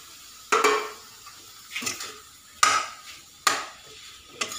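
A utensil scraping and clanking in a kadai as boiled potato is mixed into fried spices and vegetables for a burger filling, with four or five distinct metallic knocks spaced a second or so apart, close and clear with no talk.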